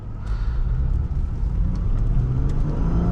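A 2012 Lexus IS350 F-Sport drives along, its engine humming in a steady low rumble with road noise and faint ticks heard from inside the cabin, holding an even, fairly loud level.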